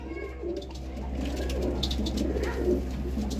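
Breeder pigeons coo softly over a steady low hum, a continuous murmuring throaty call with faint background noise.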